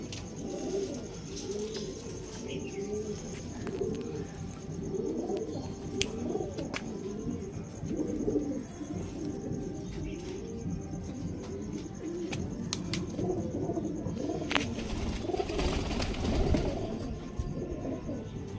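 A pair of teddy pigeons, a male and a female, coo softly and repeatedly at close range in a loft, with low murmuring calls over steady background noise.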